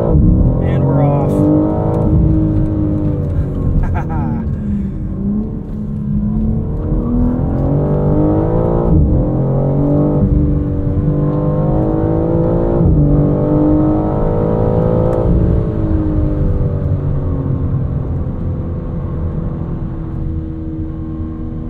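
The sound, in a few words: 2022 BMW M4 Competition convertible accelerating from launch control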